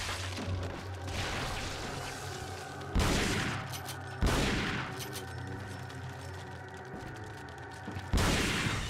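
Enemy gunfire in Resident Evil 4 comes as bursts of sprayed shots, with three or four sharp, loud volleys standing out over steady game noise.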